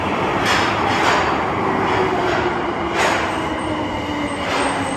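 A subway train arrives at Oshiage Skytree station, with a steady rumbling roar of wheels and cars, close and continuous, and faint rhythmic clunks as it rolls in.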